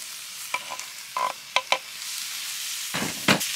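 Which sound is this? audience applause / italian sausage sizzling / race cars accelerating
italian sausage sizzling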